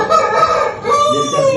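A young rooster crows loudly and close, one strained, wavering crow that breaks midway and continues.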